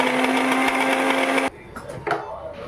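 A wet grinder grinding batter in a home kitchen whirs loudly with a steady motor hum, then cuts off abruptly, leaving quieter clatter and handling noises.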